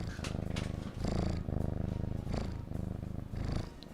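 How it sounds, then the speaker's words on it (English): A pet cat purrs close to the microphone in soft, rhythmic rumbling cycles, each breath in and out making a low buzzing swell, quiet and intimate with no talk. "Let's just have like purring ASMR"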